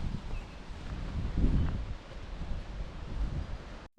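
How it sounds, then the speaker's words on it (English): Low, blustery wind buffeting the microphone in uneven gusts, rumbling outdoors beside an instant cabin tent, no voices, ending in an abrupt cutoff. "Very windy today."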